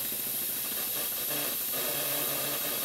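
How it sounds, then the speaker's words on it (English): The blower of a steam engine, run with the reverser notched up, gives a loud, continuous hiss that stays steady and unbroken throughout, with no voices over it. "Now the engine will not sound as good, but listen to the blower."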